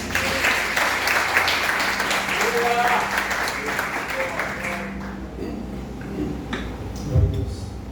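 A church congregation applauds during a sermon, a dense, sustained wash of clapping mixed with voices that fades after about five seconds into quieter room sound.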